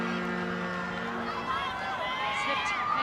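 Rugby crowd at a women's World Cup pool match between Japan and Canada, a broad continuous roar of spectators rising and swelling, with a commentator talking over it throughout.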